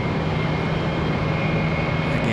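An American Airlines jet arriving from Munich at Charlotte Douglas airport gives a steady, broad engine roar with a faint high whine, heard from a distance and continuous throughout, with no voices.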